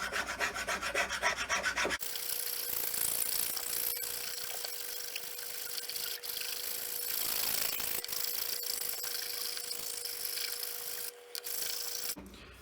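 Steady rasping strokes of a file across a wooden hammer handle, continuous and close, with a faint constant hum underneath.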